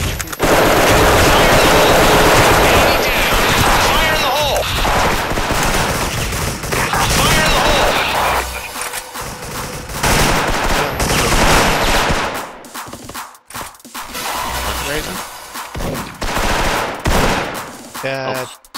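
Dense video game gunfire during a tournament match, with rapid automatic bursts and single shots firing almost nonstop at close range, loud and layered, while players talk over it.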